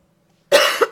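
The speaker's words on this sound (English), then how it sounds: "I do apologize for the coughing." A single short throat-rasping cough, close to the microphone, after a moment of near silence.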